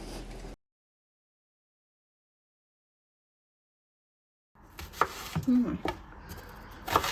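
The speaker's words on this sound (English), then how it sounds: "To begin with, I'm going to slice the onions." Knife chopping onions for Hungarian fisherman's soup (halászlé): near silence at first, then a few seconds of close, irregular cutting taps on a board.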